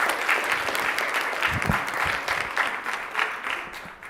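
Applause in an assembly floor session chamber, legislators clapping for a birthday, a steady broadband patter sustained throughout at moderate volume with a few low thumps from the room.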